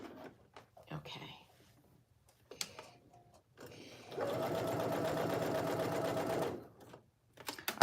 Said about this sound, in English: I'm going to get it lined up and just simply stitch my label in